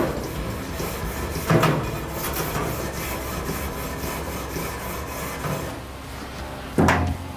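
Wire brush scrubbing a hot grill grate, continuous scraping and rasping strokes with two sharper, louder scrapes standing out, close by and without talk.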